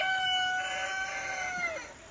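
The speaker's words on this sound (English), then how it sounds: "my disrespectful rooster" A homestead rooster lets out a single drawn-out crow, fairly close and clear, tapering off near the end with no talking.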